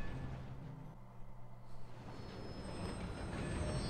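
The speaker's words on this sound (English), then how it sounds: "For the first time in this game, we're actually paying to go on a train instead of robbing it." A train ride in the video game Red Dead Redemption II: a low, steady rolling rumble of the railcar with a soft, continuous rattle that holds at a quiet, even level throughout.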